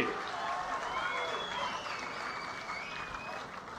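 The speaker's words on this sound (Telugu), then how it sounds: "గట్టిగా చప్పట్లు కొట్టి అభినందించండి." An outdoor public rally audience applauds in a sustained, even wash of clapping, with crowd noise and a background voice mixed in.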